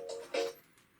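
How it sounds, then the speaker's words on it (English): A mobile phone rings indoors, two short bright tonal chirps in quick succession, fairly faint and followed by a quieter tail. "that was my phone"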